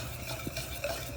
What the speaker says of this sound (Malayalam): അതുകൊണ്ട് കുറേശ്ശെ ഇട്ട് നമുക്കിതൊന്ന് ഇളക്കി മിക്സ് ചെയ്തെടുക്കണം കേട്ടോ.